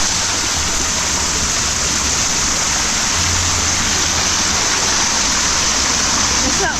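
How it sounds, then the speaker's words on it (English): A hot tub waterfall at Universal's Portofino Bay Resort pours steadily into warm water, a constant close rushing splash with no pauses. "I've never been in a hot tub that had a waterfall."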